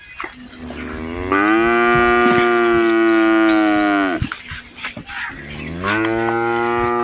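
A cow at a cattle market gives loud, close, drawn-out moos, one long call followed by a second that starts near the end, over a low murmur of background noise.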